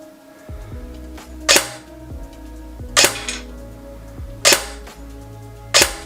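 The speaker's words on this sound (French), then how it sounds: "pour tirer à vide avec cette réplique, ça sera sans chargeur" An ASG CZ Scorpion EVO 3 A1 airsoft electric gun dry-fires with no magazine fitted, giving four crisp mechanical snaps spaced about 1.5 seconds apart over a low motor hum.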